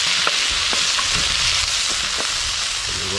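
Okra sautéing in a pot with carrot and potato at an outdoor riverside cookout, a constant loud frying hiss with soft spoon scrapes every half second or so, no voices.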